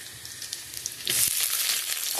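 Potatoes dropped into hot oil over browned onions in a pan give a sudden loud sizzle midway, after a quieter crackling start, then hold at a steady, close hiss.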